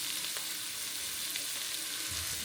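Vegetables for chilli fry with herbs being stirred in, giving a dense, loud, even sizzle with soft scraping of the stirring, close up and without any talking.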